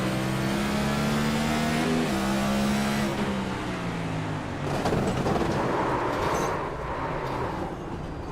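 A video game Next Gen stock car engine drones at high revs at Martinsville, then the pitch drops as the throttle lifts, leaving a rougher, falling engine note with light background noise.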